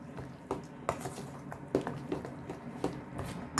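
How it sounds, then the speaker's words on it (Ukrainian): A utensil scrapes and clinks against a bowl in a steady stirring rhythm, mixing grated zucchini with salt, close and fairly quiet, with no talking. "Перемішаю гарно."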